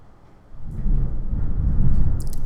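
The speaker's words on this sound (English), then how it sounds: "That's just lightning, ignore it." Thunder and lightning in the video game Skies of Arcadia, a deep rolling rumble that swells after a quiet start and stays loud, with faint crackles on top.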